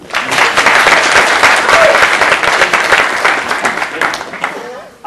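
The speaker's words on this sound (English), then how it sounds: "Round of applause for her." Strong audience applause for a volunteer at a mentalist's stage show, loud sustained clapping that gradually thins toward the end, with a voice briefly heard over it.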